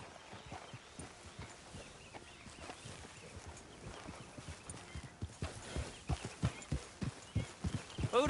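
Horse hooves clip-clop steadily in Red Dead Redemption 2, the rhythmic beats starting soft and growing louder and sharper toward the end as the horse comes close, with no talk over them.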